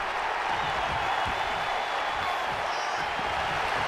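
Crowd noise in the WWE 2K23 wrestling video game, heard as a steady, loud wash of applause and cheering filling the arena without a break, with no clear voices on top.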